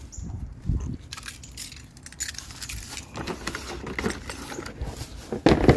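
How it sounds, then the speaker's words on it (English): Car keys dropped inside a BMW 435i, jangling in a bright metallic burst near the close, after quieter handling rustles and shuffling in the cabin. "Drop the keys."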